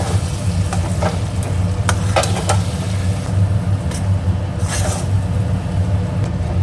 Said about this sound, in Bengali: এবার ভালো করে এটা ভাজা ভাজা করে দেবো